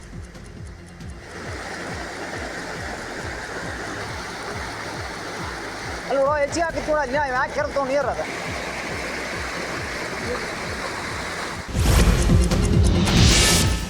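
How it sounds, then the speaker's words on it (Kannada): Water pours loudly over a tall hillside waterfall swollen by rain at Bilagi, a constant roaring rush, with a voice speaking over it briefly and a louder splashing surge near the end. "ಬಿಳಗಿಯ ಬಸವೇಶ್ವರ ದಿಡಿಗು ಅಂತ ಕರೆಯುವ ಜಲಪಾತ ಉಕ್ಕಿ ಹರಿತಾ ಇದೆ"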